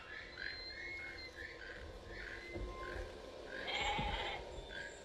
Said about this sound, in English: He's gonna eat the goat?